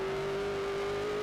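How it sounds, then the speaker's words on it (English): A Class 1 trophy truck engine with an automatic gearbox runs at the Baja 500 off-road race, droning at a steady high pitch, loud and constant, heard onboard with no voices. "just the engine singing away"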